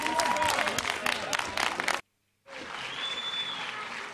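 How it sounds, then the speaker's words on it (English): Applause from an audience in a council chamber during a city address debate, a steady ripple of clapping at moderate distance that cuts out briefly into silence, then resumes more evenly. "let's hear you clap"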